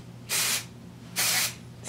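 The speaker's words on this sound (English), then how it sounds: "I'm going to go ahead and just lift sections of my hair and spray this" Dry Bar Triple Sec texture spray is sprayed through lifted sections of hair in two short, close hissing bursts separated by a brief gap.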